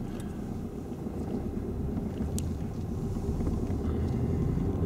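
A car passing from behind on the road during a driving lesson, a steady low engine and road rumble that grows slightly louder throughout, with no one talking.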